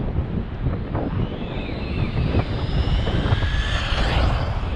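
Wltoys 124019 RC car on a 3S battery makes a speed pass, a thin high motor whine rising in pitch as it rushes past under steady wind buffeting on the microphone.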